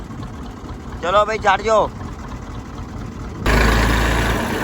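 A tractor hauling a load of fodder kicks into a loud, steady engine roar partway through, after a brief spoken phrase and a quieter low rumble beforehand.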